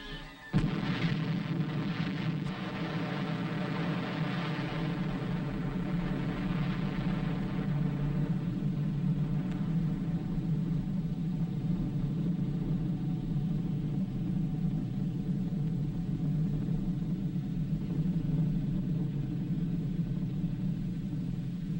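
The first atomic bomb test blast in the New Mexico desert begins with a sharp onset, then a heavy, sustained low rumble rolls on loudly for many seconds without easing.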